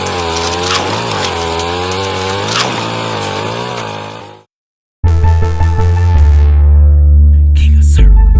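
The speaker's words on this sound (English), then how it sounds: "Doom turns his chainsaw back on and cuts Mike Guns into small chunks." Chainsaw sound effect in an audiobook, a loud, close engine whine with revving pitch that cuts out abruptly, then restarts after a brief silence and roars again steadily at high volume.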